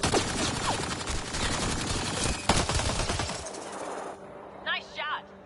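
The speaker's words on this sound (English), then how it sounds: "Nice shot." Sustained bursts of gunfire in a Mass Effect Andromeda fight, dense and loud through most of the moment, then fading out while brief voices speak near the end.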